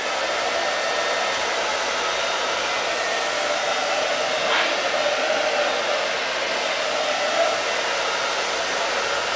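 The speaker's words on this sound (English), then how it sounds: "you can take a hair dryer" A hair dryer runs steadily on a slow, warm setting for a crafting project, a close, even whooshing roar that holds at one level throughout with no talk.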